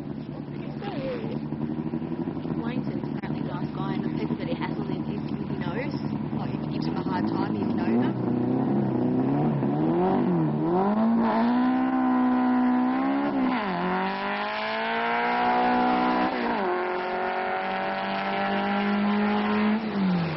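A 2.5 litre VW Beetle at a drag race, its engine revving in rising and falling sweeps as it accelerates through the gears, loud and close with an announcer talking over it.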